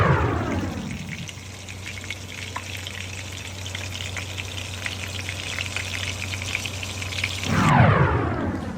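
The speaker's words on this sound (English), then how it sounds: "I'm going to cook up the ground beef. And all I'm going to do is cook it on 5 minutes on one side" Ground beef burger patties fry loudly in a cast iron skillet over medium heat, giving a dense, continuous sizzle with no talking. The crackle swells briefly near the end.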